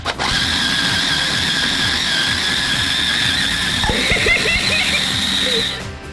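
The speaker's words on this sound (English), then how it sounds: "Pulse until the olive and oil mixture become a coarse paste" A food processor pulsing olives and olive oil into a coarse tapenade, a steady close whirring grind with a high whine running almost unbroken for several seconds before stopping.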